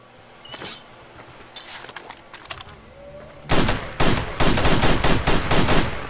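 A gun being tried out in Far Cry 2: scattered, faint clicks at first, then from about 3.5 seconds a loud run of close, sharp shots fired in quick bursts.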